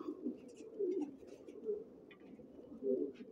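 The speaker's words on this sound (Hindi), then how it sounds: "ज़बरदस्त किस्म के कबूतर छत पे बैठ रहे हैं" Racing pigeons on a rooftop coo nearby in soft, throaty bursts that swell and fade in a loose, repeating rhythm.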